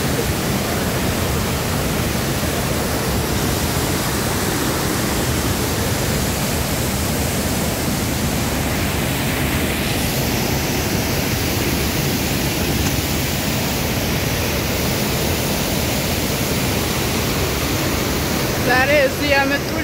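Rebo waterfall roars in a steady, loud broadband rush of falling water close by, unbroken throughout with only a faint brief sound near the end.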